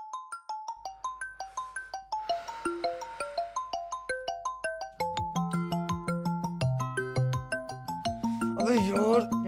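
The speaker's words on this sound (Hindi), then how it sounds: "अरे फोन बज रहा तेरा, उठाता क्यों ना है?" A mobile phone plays a melodic ringtone of repeated electronic notes that goes on for several seconds, with game sounds and faint voices joining near the end.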